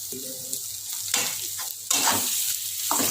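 Egg curry with curry leaves is stirred in a sizzling pan, close and clear, with scraping strokes and bursts of frying hiss and no voices.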